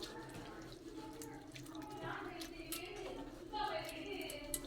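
Red rice flakes get washed under running water in a kitchen, a soft trickle and splashing with faint clinks, quiet and continuous while a person talks lightly in the background.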